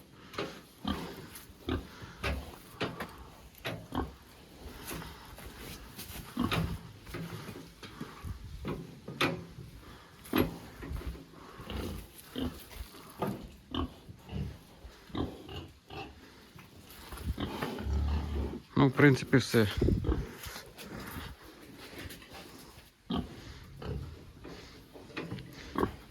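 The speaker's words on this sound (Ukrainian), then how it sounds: "Так, ну ось така свинка." A 135-kilogram pig grunts and snorts repeatedly in short bursts close by, with rustling and a brief spoken remark.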